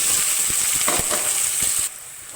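Steady sizzling of chopped onion frying in hot oil, with a few soft stirring clinks, cutting out near the end.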